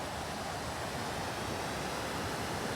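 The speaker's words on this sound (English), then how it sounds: "Boy, there are waterfalls all over here." Steady broadband rush of a waterfall in the French mountains along a hiking trail, constant and fairly soft, with no voices over it.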